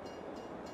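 A train rolls along the tracks in Farming Simulator 22, a faint, steady rumble with no voices, lasting under a second.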